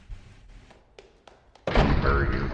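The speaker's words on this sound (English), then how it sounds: "Emergency elevator door activated." An emergency elevator door in a video game activates with a sudden loud, sustained burst of mechanical noise after several soft thuds, the surge continuing to the end.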